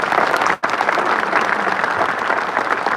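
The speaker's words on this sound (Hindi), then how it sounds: "तो उनके लिए जोरदार तालियां आप बजाएं।" Steady, dense audience applause for a retiring college principal at a teachers' gathering in a hall, loud and continuous with a brief dip early on.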